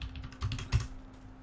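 Typing on a computer keyboard to enter an administrator username and password at a Windows Server 2019 domain sign-in, soft irregular key taps for about a second and a half with a low steady hum beneath.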